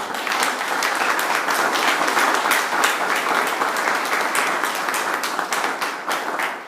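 A church congregation applauds in unison, a dense, steady wash of clapping that holds at an even, fairly loud level throughout with no voices over it.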